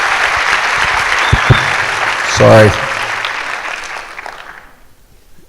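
Audience applause at a school district staff recognition event, a loud round of clapping that begins abruptly after a brief spoken word, swells for a few seconds, then thins and dies away into near quiet.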